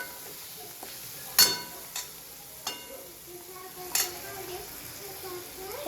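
Chicken biryani masala is stirred in a pan with a soft background sizzle and a few scattered scrapes and taps of a spoon against the metal, one louder clank standing out.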